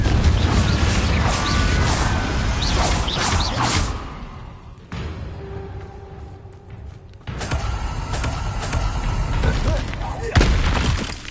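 Confringo blasting spells go off in a Hogwarts wizarding video game, with repeated booming bursts and crackling debris, a quieter stretch midway, then more heavy blasts near the end.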